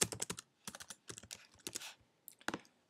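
Rapid, irregular clatter of keys on a computer keyboard, with bursts of several keystrokes separated by short pauses, close and fairly quiet with no voices.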